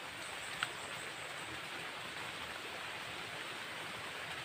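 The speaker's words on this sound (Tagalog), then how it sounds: "Lakas ng ulan Bill." Heavy rain pours steadily in an outdoor setting, a dense, constant hiss of falling water with one brief sharp tick early on and no voices.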